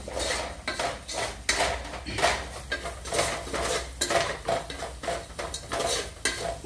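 Masala being roasted in a pan for vegetable biryani, with repeated scraping and stirring strokes of a metal spoon against the pan in a steady rhythm over a faint sizzle, close up with no talking.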